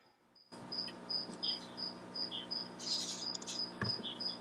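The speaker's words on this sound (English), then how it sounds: "Do I hear a cricket?" A cricket chirps in a steady, evenly spaced rhythm, each short high trill clear and fairly close, over a low background hum, with no voices.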